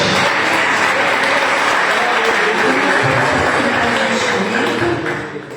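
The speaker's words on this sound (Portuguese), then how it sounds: "aplauda ele nessa noite bem forte." A church congregation at a missions service claps loudly and steadily, a dense wash of hands that carries on strongly before easing slightly at the end.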